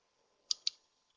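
Typing on a computer keyboard during an online English class: two quick, close, crisp key clicks in succession against a quiet background, with no speech.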